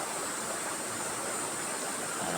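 Flowing water at Mines View, heard as a steady, loud broadband rush like a stream or small waterfall, continuous and unbroken with no voices.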